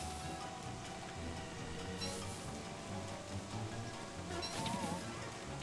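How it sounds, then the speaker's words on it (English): Frog rain falls in the video game Don't Starve, a quiet continuous patter of rain with soft rumbling and brief croaky sounds scattered through it. "Oh jeez, is this frog rain? It's frog rain."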